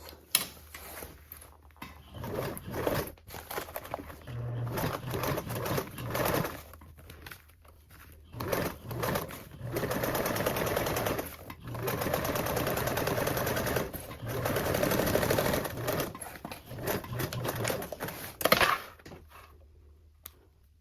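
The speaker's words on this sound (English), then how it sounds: "I'm gonna top stitch that seam with a 1/8." A sewing machine top stitching a seam on a toiletry bag, running in repeated bursts of rapid mechanical chatter separated by short pauses, close and moderately loud, with no talk.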